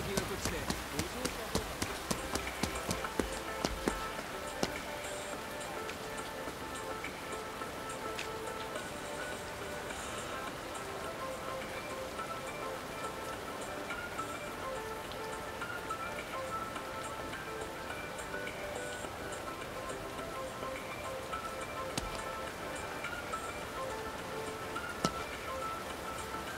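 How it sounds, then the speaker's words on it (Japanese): Steady rain patters across a street scene in Like a Dragon: Infinite Wealth, a dense continuous hiss with scattered drips that runs the whole stretch, while game dialogue plays over it. "長い雨だな。"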